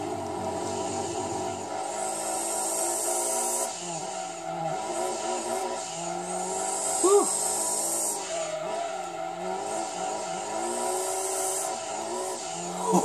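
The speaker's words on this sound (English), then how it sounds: "Full throttle out." A race car in the Gran Turismo 2 video game, during a 300 km endurance race at Grand Valley, revs and accelerates at full throttle with tires squealing, a steady engine drone rising and shifting, with a voice talking faintly underneath.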